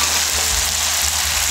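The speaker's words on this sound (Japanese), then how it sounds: "汁を入れつつ、はい、強火強火" Seven-Eleven pasta sizzling in a pan on high heat as sauce is added, a dense continuous loud frying hiss with a low bubbling underneath.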